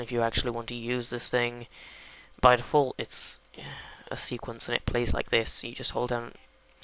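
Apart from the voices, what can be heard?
No everyday noise stands out behind the speech.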